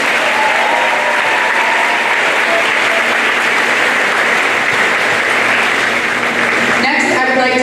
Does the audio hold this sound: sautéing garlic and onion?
no